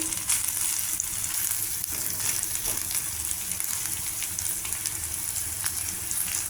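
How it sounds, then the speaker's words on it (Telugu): Ivy gourd pieces fry with tamarind in a pan, a steady, dense sizzle running without a break, close and fairly loud, with a few faint stirring scrapes. "బాగా కొద్దిగా పచ్చివాసన పోయేదాకా వేయించుకోవాలి దొండకాయ ముక్కలు"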